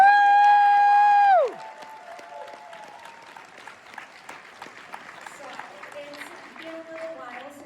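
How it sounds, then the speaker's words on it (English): Audience at a New York Comic Con panel for The Midnight Club applauds for Chloe Royalty, a low, steady patter of clapping that follows a loud sustained tone which cuts off abruptly. "We just get a round of applause for Chloe Royalty"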